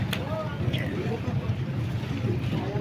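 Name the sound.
motorboat without outriggers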